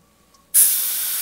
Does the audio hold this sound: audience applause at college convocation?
no